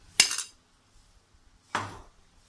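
Appam batter being stirred with a spoon in a bowl, heard as two sharp clinks of metal against the vessel about a second and a half apart, close and distinct with quiet between them.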